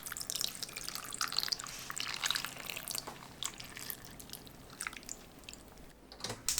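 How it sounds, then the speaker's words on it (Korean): Seasoning sauce is poured over braised sandfish topped with green onion and chili, giving soft wet splashing, dripping and squishing sounds that come and go in irregular bursts, close and fairly quiet. "양념을 골고루 부어줍니다."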